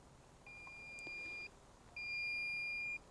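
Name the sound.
LaserLink receiver beeping when paired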